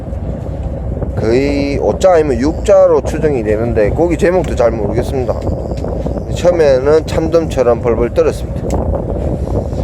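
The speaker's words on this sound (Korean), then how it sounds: "바람 많이 바람 소리 들리시죠" Steady wind buffeting the microphone on a fishing boat while tai rubber jigging for red sea bream, a low rumbling roar under someone talking continuously in Korean throughout.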